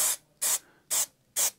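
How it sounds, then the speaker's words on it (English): An aerosol can of adhesive hisses in four short, evenly spaced bursts as it sprays onto a plastic A or B pillar trim from a VW T5/T6 van. "So I'm going to spray most of this up now"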